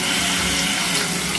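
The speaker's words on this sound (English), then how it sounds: "Definitely have to wash my hands with soap after touching the jalapeno" Tap water runs steadily as hands are washed with soap at a sink, a continuous close splashing hiss with no pauses, heard alone without talk.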